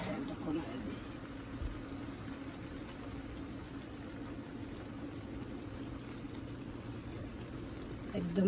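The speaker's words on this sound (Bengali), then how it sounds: "ওর জন্য একটু ঘি দিয়ে এখন চালটা একটু করছি, কষাইছি" Rice frying in ghee with meat for biryani, giving a steady, even sizzle and bubbling hiss from the pot throughout while a person talks.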